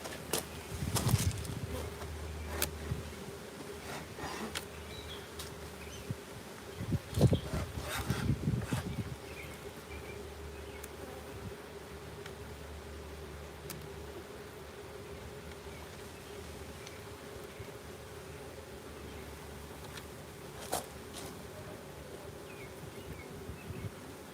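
Honey bees hum around beehive frames left out near an active hive, a low, continuous buzz with a few scattered bumps and knocks early on, and no talking.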